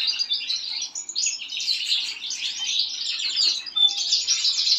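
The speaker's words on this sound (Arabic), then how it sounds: "وشوف عمر الطير تاعي ما يشرب ما صافي" A pet bird chirps and twitters continuously in fast, bright, close-up trills that fill the whole stretch with no pauses.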